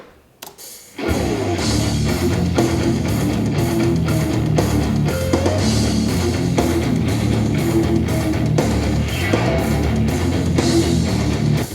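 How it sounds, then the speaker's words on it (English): Heavy distorted electric guitar riff with low end rolled off, layered with overdubbed pick scrapes sliding along the strings, a dense, loud, continuous wall of sound after a brief quiet start. "It just sounds like I'm scraping through twice as many strings as I actually have on the guitar."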